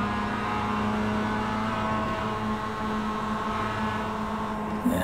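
A Mazda MX-5 race car engine in the iRacing sim, droning steadily at high revs with strong harmonic tones, holding a constant pitch with a brief shift near the end, no voices.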